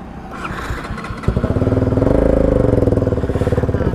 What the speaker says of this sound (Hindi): चलो देखता हूँ एक बार चला के, ये है मेरी बाइक